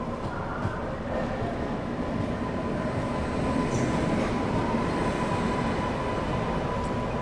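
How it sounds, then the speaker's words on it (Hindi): An intercity passenger train rolls into Ghaziabad junction railway station in India, a steady, moderately loud rumble of wheels on track with a faint metallic squeal, continuous and unbroken, with no voices. "बाकी कोई गाड़ी एक एंट्री कर रही है यहाँ पे गाजियाबाद में"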